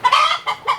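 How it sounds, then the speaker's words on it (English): Chickens in a high tunnel on a cold winter day, including black Australorps, Buff Orpingtons, Rhode Island Reds and Barred Rocks, give three short, close clucks in quick succession. "Chickens look fine."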